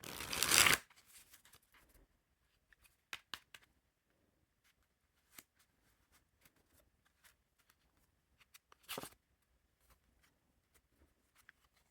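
A deck of Hello Kitty Bicycle playing cards is riffled in a quick burst at the start, followed by scattered soft card clicks and taps in near silence.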